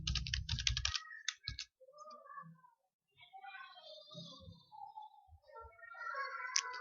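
Fast clattering keystrokes on a computer keyboard, then a few scattered clicks, close and quiet, followed by soft, faint background sounds.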